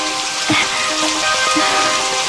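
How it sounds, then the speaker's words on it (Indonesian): Steady rain falls outdoors, a dense even wash of patter with faint drips and taps scattered through it, heard alone with no voices. "Ya, yang hujan. Iya hujan."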